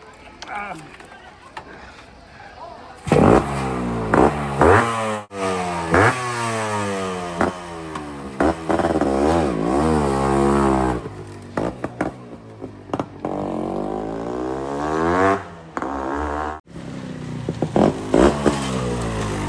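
RX motorcycle ridden on a road, its engine revving up and down in repeated pulls, loud and close, with brief gaps between throttle bursts.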